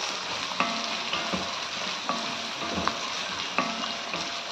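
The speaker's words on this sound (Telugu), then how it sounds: "వేసుకున్న తర్వాత మనం ఆనియన్స్ అనేటివి చాలా అంటే చాలా బాగా ఫ్రై అవ్వనివ్వాలి, రెడ్ అవ్వాలి." Onions fry steadily in hot oil for a mutton curry with curry leaves, a continuous even sizzle broken by a few sharp spatula scrapes and taps against the pan, close and moderately loud.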